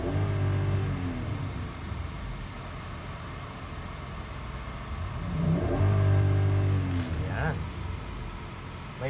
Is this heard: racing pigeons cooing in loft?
no